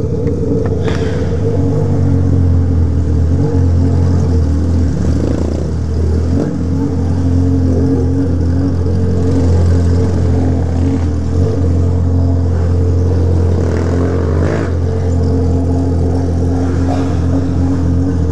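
A Honda Hornet motorcycle with a straight-through exhaust and no rear fender runs loud and steady nearby, its engine droning continuously with slight surges and no voices.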